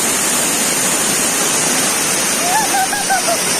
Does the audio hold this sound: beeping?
no